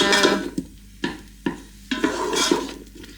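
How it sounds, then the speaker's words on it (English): Chopped onion sizzling in olive oil in a slow cooker pot, stirred with a wooden spoon in repeated scraping strokes over a soft, steady fry. "Right, now we're starting to sizzle. Give your onions a good mix."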